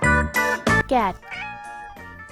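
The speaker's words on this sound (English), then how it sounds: "Cat." Toy cat from a walking animal toy lets out a few short, close, loud synthetic meows, followed by a brief tinkling tune.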